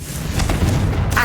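Confringo, an explosive fire spell, cast in the video game Hogwarts Legacy: a single loud, dull booming blast that rumbles low and carries on for about a second.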